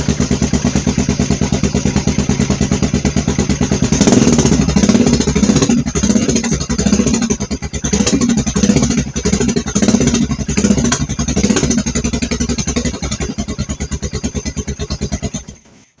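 Yamaha XT500 single-cylinder motorcycle engine running, a loud close rapid thumping beat that picks up and varies in speed, then cuts off abruptly at the end.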